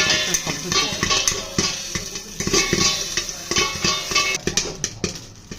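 Pakoras fry in a covered pan, giving a continuous crackling sizzle broken by frequent sharp clinks and scrapes of utensil against metal, close and fairly loud.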